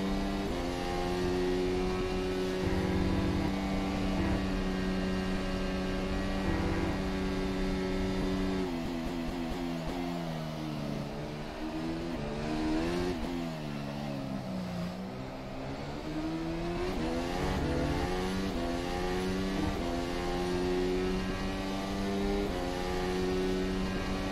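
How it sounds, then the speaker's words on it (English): A Zakspeed formula car revs hard in rFactor 2 during a qualifying lap at Silverstone, its engine note loud and continuous with rising and falling pitch sweeps through gear changes. "trying to power up the engine"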